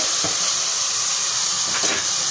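Cooked cauliflower and peas tipped into hot masala for a cauliflower sabzi, a steady bright sizzle and hiss filling the pan, with two short bursts of louder crackle as the vegetables hit the oil.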